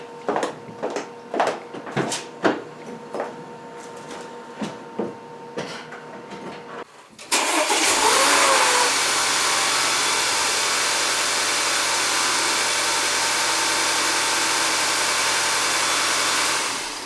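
A 2015 Audi A4 Sport engine cranks and catches after several clicking, rattling handling noises, then settles into a steady, loud, even idle that runs uninterrupted to the end.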